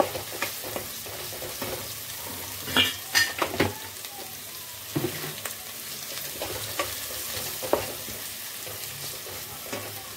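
Green chilies with a pinch of turmeric sizzle softly in a pan, broken by a series of sharp scraping and clinking stirs against the metal.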